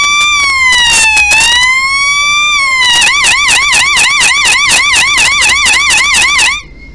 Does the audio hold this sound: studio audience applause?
no